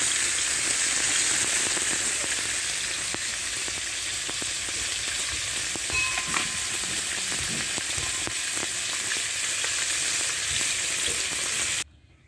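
Catfish pieces frying in oil in a wok, a steady close-up sizzle and crackle that holds evenly for many seconds before cutting off abruptly, with no voices.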